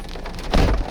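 Hail falls in a storm ahead of a tornado, a dense, close clatter of stones on surfaces with a heavier burst of impacts midway, loud and without talk.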